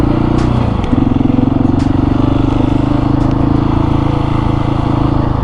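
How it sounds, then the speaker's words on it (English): A KTM 701 supermoto motorcycle engine drones loud and close in second gear during wheelies on new tires, its steady pitch dipping briefly then holding a sustained throttled roar, with faint clatter and no talking. "I'm just messing around with second gear wheelies because I'm trying to get used to these new tires."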